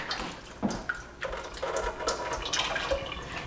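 Freshly cooked clams shaken in a metal strainer basket under running tap water, a steady splashing wash with a few rattling bursts from the shells, close by with no talking.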